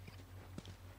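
Horse hooves in the video game The Last of Us, a few soft, quick clip-clop steps, faint and close over a low steady hum.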